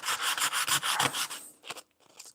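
Sandpaper rubbing back and forth on a wooden Anco Built easel during restoration, a rhythmic series of close rasping strokes that slow and thin out into a few short scrapes near the end.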